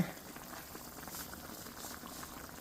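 Pasta dropped into a pot of boiling water, steady bubbling and fizzing at close range with a faint splash at the start, no talking.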